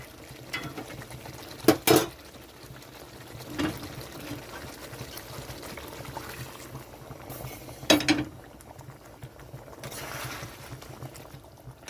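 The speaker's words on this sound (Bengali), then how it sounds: "এখন আমি দিয়ে দিচ্ছি গরম জল" Hot water poured into a katla fish curry and left to boil, a continuous bubbling roil close by, broken by a few sharp clatters and stirring scrapes from the pot.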